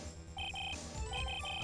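A cell phone ringtone sounds in the Ace Attorney video game, a repeating electronic melody in short bursts that plays alone with no talk over it.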